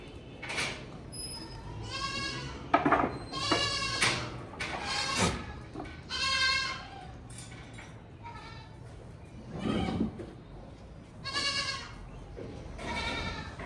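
Young goats bleat repeatedly in a goat pen, several loud overlapping calls in bursts across the clip, with quieter gaps of background noise between them.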